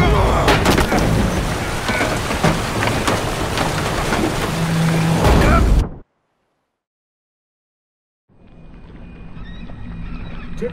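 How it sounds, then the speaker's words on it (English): A storm in The Witcher 3 aboard a heaving boat: loud cracks of thunder and heavy, hissing rain for several seconds, then abrupt silence, followed by quieter rain and rumbling returning. "Didn't bargain for no storm."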